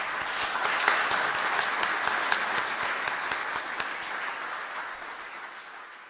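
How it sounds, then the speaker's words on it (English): An audience at a comics symposium held by Columbia University Libraries in New York gives dense, sustained applause that holds steady and then gradually tapers, with little talk. "So a round of applause for our sponsors."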